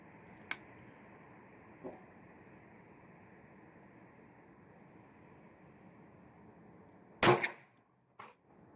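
An FX Dreamline .22 air rifle fires a single sharp, loud crack followed by a quick clank, with a few faint clicks before it over a steady low hum, and no voices.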